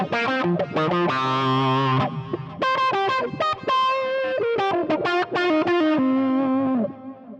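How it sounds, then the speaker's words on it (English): A Fractal AX8 running the Studio Lead patch plays a distorted lead guitar line through an auto-wah effect, with sustained bent notes and quick phrases that sweep in tone, loud and close, with no talking. "this sound is called Studio Lead, and it has this cool kind of auto wah sort of sound on it"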